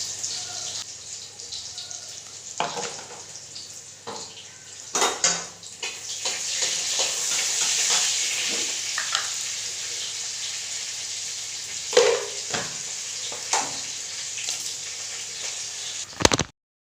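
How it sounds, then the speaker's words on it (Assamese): Dalia fries with a little onion in a pan, a soft, continuous sizzle running under intermittent clanks and scrapes of a spoon against the metal, close by and without speech. "অকণমান পিঁয়াজ দি ডালিয়াটো ভাজিম"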